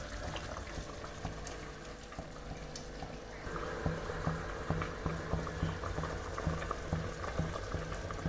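Misal curry for misal pav boils in a pot, giving a steady bubbling and simmering wash with soft, regular popping pulses close by, no voices.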